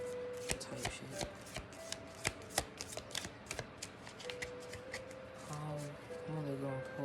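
Tarot cards are shuffled and pulled by hand, giving a long run of soft, crisp riffles and flicks in an uneven rhythm, fairly faint and close, with soft background tones and a voice now and then.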